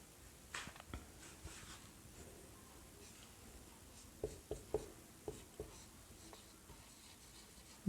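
Chalk or marker writing on a board during a biology lesson, with soft scratchy strokes and a series of short taps in quick succession, quiet and close.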